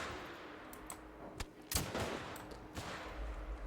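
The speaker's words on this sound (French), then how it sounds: "J'ai tiré sur la femelle du coup." A gunshot fired at a female animal in the hunting video game The Hunter rings out as a single sharp report, followed by faint ambient game sound.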